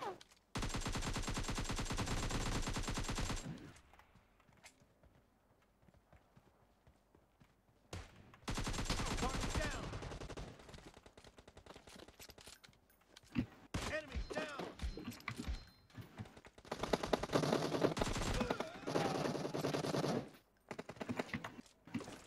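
Rapid automatic gunfire in a shooter video game, several loud sustained bursts separated by pauses, with a voice talking in between.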